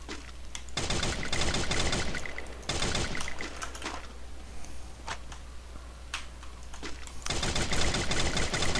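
Rapid automatic gunfire in Free Fire, tight ticking bursts of shots at the start, middle and end, with scattered single shots and a low steady hum between them.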